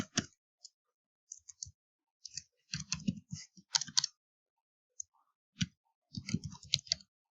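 Quiet, irregular clicking of computer keyboard keys as an SQL query is typed, in short scattered bursts with pauses, close and soft.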